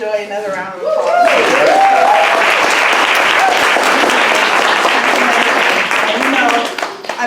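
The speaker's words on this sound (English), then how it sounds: "Let's give Joy another round of applause" A voice speaks briefly, then an audience at a third-anniversary celebration in Marina, California, breaks into loud, steady applause that holds for several seconds before beginning to fade.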